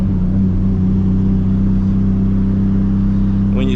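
A 1000HP Toyota MKIV Supra engine roars loud and close during a hard pull, a steady heavy drone with a low rumble and a rising note at the very end.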